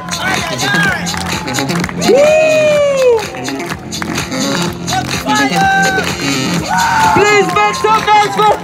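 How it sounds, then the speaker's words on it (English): An audience claps and cheers loudly, with excited shouts and whoops rising and falling over a dense bed of applause and crowd noise, sustained for several seconds. "Please everybody clap your hands for this guy."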